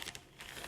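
Faint, brief crinkling of a plastic dry-age bag handled close by, in two short bursts separated by a quiet gap.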